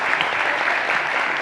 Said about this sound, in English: a warm round of applause for Elizabeth